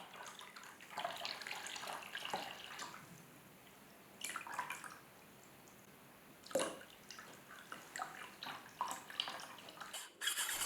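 Water pouring from a handmade ceramic teapot, a steady trickling stream with shifting splashes and drips, soft and close in a quiet room.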